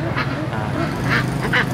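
Ducks quack at a rural Vietnamese market in Na Dương, Cao Lộc, Lạng Sơn, with a few short nasal calls rising over a steady murmur of market noise.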